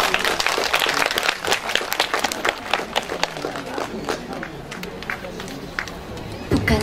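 Audience applause at a patriotic poetry recital concert in Gangbuk, steady clapping from a crowd filling the hall, with some murmuring voices underneath and a few louder claps near the end.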